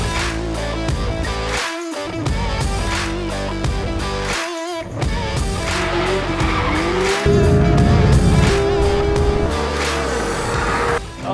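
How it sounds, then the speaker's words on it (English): A 2019 Porsche 911 GT3 RS engine revving hard through repeated gear shifts, loud and close, with rising whines and brief drops between pulls. "Listen to that engine."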